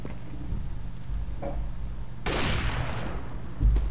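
Gunfire in CS:GO, heard first as a few scattered shots and then as a loud, dense burst of rapid fire partway through that trails off into isolated cracks; no talking.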